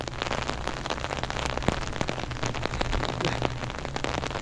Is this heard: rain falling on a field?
yes